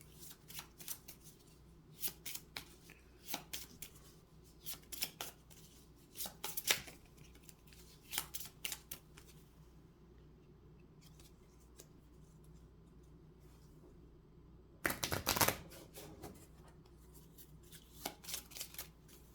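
Playing cards for the Mini Rogue board game being shuffled by hand, close and fairly quiet, in repeated short riffling bursts separated by brief pauses, one louder burst late on, with no talking.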